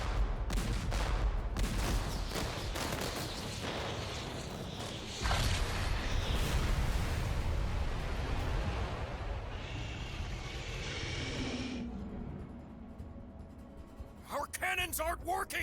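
Ship cannons in a Dragon Quest video game fire at a hydra in a dense barrage of booms and blasts, loud throughout, with game music and effects around them and a voice shouting briefly near the end.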